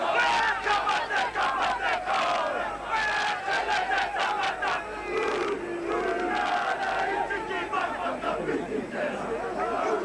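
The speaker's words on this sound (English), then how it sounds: "And here's the traditional haka" The New Zealand rugby league side performs the traditional haka at Carlaw Park in 1985, a chorus of rhythmic, forceful shouted chants in sharp repeated bursts over a murmuring stadium crowd.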